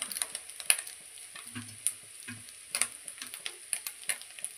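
Blood fry cooking in a pan with garam masala and coriander, a faint soft sizzle broken by scattered light ticks and stirring scrapes, no voices.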